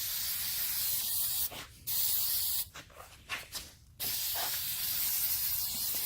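VHT rust converter sprayed into the rusty driver side door of a 1955 Chevy truck, a steady loud aerosol hiss broken by brief pauses and short spurts in the middle.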